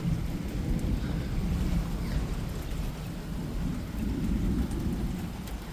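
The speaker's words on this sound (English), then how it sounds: "You can hear the rain is definitely starting to pick up a bit. Look at it raining. You can also hear the thunder," Heavy rain falls steadily during a severe thunderstorm with high winds, and a low rumble of thunder rolls continuously beneath the dense wash of rain.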